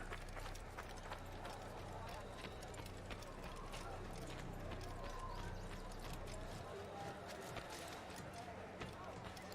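Rapid horse hoofbeats in the video game Assassin's Creed clip-clop at a steady gallop over a low droning hum, with occasional voices talking underneath.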